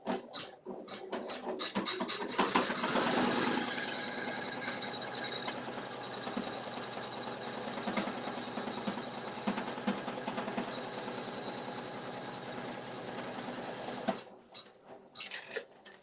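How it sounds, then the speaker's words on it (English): A Janome 500E embroidery machine stitching on felt, giving a steady, fast mechanical whir and needle chatter that runs continuously for most of the span before stopping, with a few clicks at the end. "It's going to embroider on all of this now."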